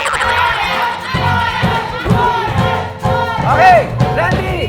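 A studio audience on a Filipino TV game segment shouts and cheers loudly, a dense, continuous wall of excited voices with some high-pitched yells rising and falling.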